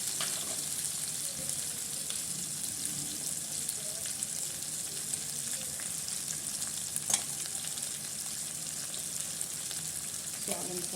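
Homegrown pumpkin sabji frying in a pan over high heat, a steady, moderate hiss and crackle with occasional soft stirring clinks throughout.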